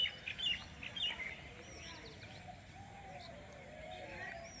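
Pigeons coo softly outdoors on a cloudy morning, low rounded calls mixed with faint chirps from other birds, distant and quiet over a steady hiss of background noise.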